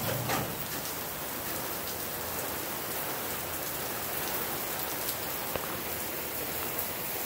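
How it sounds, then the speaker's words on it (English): Steady rain falls outdoors, a dense, even hiss of drops pattering on surfaces that holds at a constant level for the whole stretch, with no voices. "it's raining."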